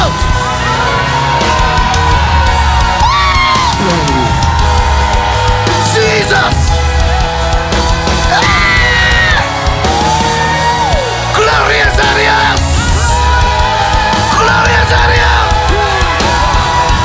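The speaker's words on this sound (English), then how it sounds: "Let a shout go out." A church congregation at a prayer service shouts, yells and whoops in praise, loud and continuous, with organ-like music sustained underneath and occasional voices rising above the crowd.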